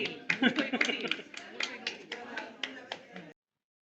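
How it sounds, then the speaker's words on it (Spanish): A few people clap at a brisk, uneven pace for about three seconds, close by, with voices mixed in, then it stops abruptly. "Esto, un aplauso."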